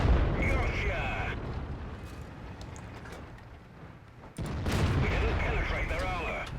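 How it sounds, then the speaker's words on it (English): A rapid-firing tank gun in World of Tanks, two heavy booming blasts a few seconds apart, each followed by rumbling decay, with a voice talking over the game sound. "Unfortunately for this guy, I have a really high rate of fire gun here."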